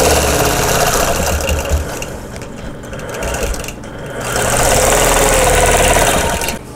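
A sewing machine stitching a quilt in the ditch, a loud, steady mechanical rattle that eases briefly midway and then resumes at full speed.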